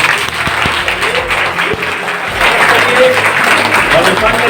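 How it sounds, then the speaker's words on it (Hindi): An audience at a network marketing seminar in India claps loudly and continuously, a dense crackle of many hands filling the hall and growing stronger toward the end. "जोरदार ताली होना चाहिए।"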